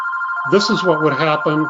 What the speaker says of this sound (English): Sorry about the phone call there.